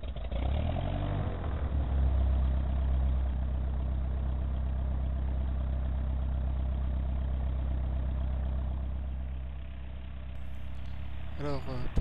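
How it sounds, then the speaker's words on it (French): An aircraft engine starts up before a flight over Mont Blanc on a clear, windy day, settling into a steady, loud low-pitched rumble throughout, with a brief rise near the end. "Allez, séquence allumage moteur."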